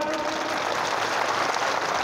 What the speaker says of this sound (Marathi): एकदा जोरात टाळ्या वाजून त्यांना सन्मानित करावा.